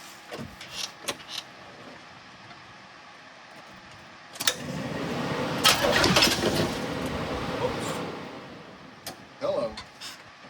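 A 1986 Chevrolet Corvette C4 engine cranks in a few short bursts, then catches for a loud roar of several seconds that fades out, with sharp mechanical clatter and a final brief burst.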